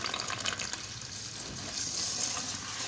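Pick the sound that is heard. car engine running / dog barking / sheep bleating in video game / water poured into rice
water poured into rice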